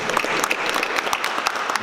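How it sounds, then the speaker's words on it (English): An audience at a panel discussion on gentrification claps in a short, steady burst of many hands, fairly loud and close, with no talking over it. "I give a round of applause for Brian for showing up today."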